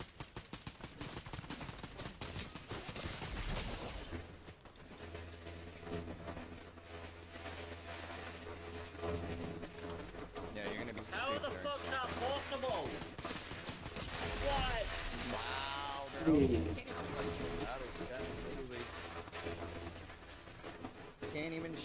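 Gunfire in the video game Fortnite, with repeated bursts and rapid volleys over a busy game soundscape that runs the whole way through and grows louder toward the end.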